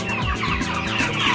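Chickens on a poultry farm in Danaque, Manang cluck steadily and close by, several birds overlapping in a busy, continuous chatter with no voices over it.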